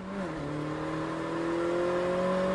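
A Mini race car engine revs up steadily on a driving circuit, its pitch climbing in smooth rising tones as it accelerates out of a corner, loud and close with no voices.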